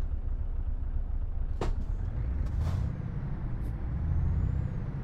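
A truck in Euro Truck Simulator 2 accelerates at full throttle, giving a steady low engine drone throughout, with a couple of short hissing air-brake bursts and faint tonal beeps over it.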